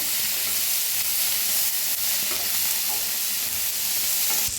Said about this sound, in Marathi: अद्रक आणि लसूण सगळं मिळून भाजून घेऊया